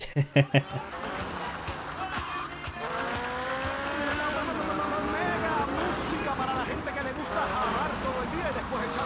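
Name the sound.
motorboat driving in video game GTA Vice City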